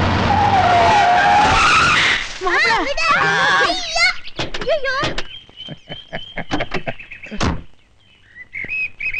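A Benz car speeds and skids, tyres squealing loudly in long wavering screeches over engine roar, then sharp thuds and knocks as it settles, with excited voices shouting throughout.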